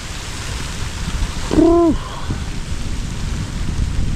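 Rain and sleet falling steadily in the woods during a small storm, a constant hiss throughout, broken briefly by a short vocal hoot from a nearby person.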